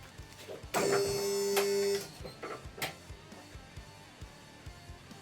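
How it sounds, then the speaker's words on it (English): A car hoist in a workshop runs with a steady electric motor whine for about a second, followed by clicks and small mechanical knocks as it moves. "I'll go down with the hoist and I'll show you what we did at the top"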